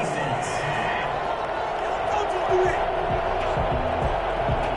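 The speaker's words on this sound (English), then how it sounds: "Well, the crowd doesn't like that." A video game football stadium crowd reacts to a penalty flag with a steady, loud roar of displeasure that runs throughout, while commentary carries on over it.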